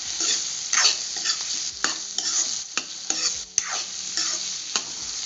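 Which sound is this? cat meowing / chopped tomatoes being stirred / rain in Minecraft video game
chopped tomatoes being stirred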